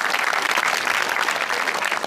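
An audience at a live comedy show claps steadily, with a dense and even burst of applause close up throughout.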